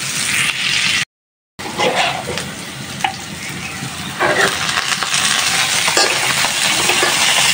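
Leafy greens (saag) frying in a pan, a loud, steady sizzle with occasional stirring scrapes and clinks, close up and with no talk.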